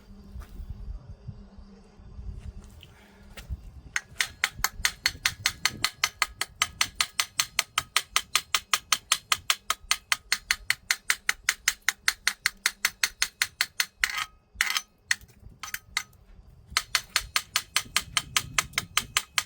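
A hammer taps slag off a fresh weld on a trailer winch, making a long run of fast, evenly spaced metallic clicks with a few short pauses, loud and close after a quiet start.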